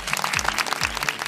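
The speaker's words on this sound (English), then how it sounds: "Let's give a big round of applause for our first participants." An audience at an International Day of English event at a university claps loudly and densely close by for a brief burst, with no talking over it.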